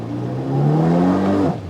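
Jet boat engine on a river revving high without drive as debris clogs the jet, a loud, close rising whine and drone held for about a second before dropping off.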